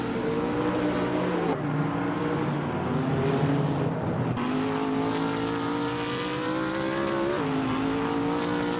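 Race cars on track, including a 2012 Subaru BRZ, engines droning loudly and continuously with rising pitch sweeps as they accelerate through gear changes, several cars overlapping close by.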